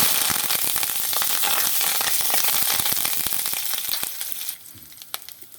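Loud crackling and spitting of curry leaves and spices frying in hot oil, dense popping that thins out toward the end, close up without speech.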